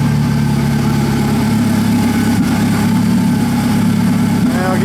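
A Corsair aircraft engine idles steadily at about 1,000 RPM, a loud continuous low rumble that holds an even drone throughout with no change in throttle.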